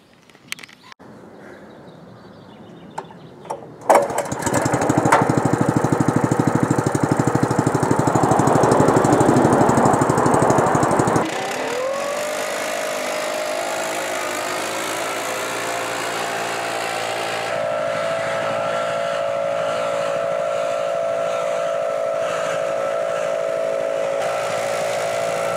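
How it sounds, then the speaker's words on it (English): The engine of a hollow tine lawn aerator starts with a few sputters, then rumbles loudly and steadily at close range, settling into a lower, even idle that runs on without any talking. "I'm just going to turn the engine on, get it rumbling,"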